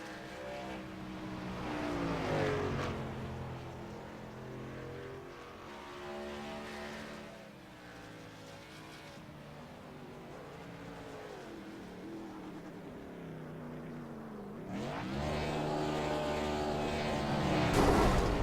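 Truck engines revving during burnouts in a sim racing truck series video game, a sustained loud droning roar with rising and falling pitch sweeps, swelling louder near the end.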